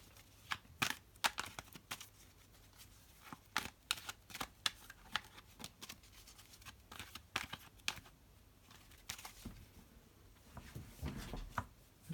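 Tarot cards are shuffled by hand in a quiet room, with sharp riffling bursts and soft slaps coming in irregular clusters, close and fairly faint.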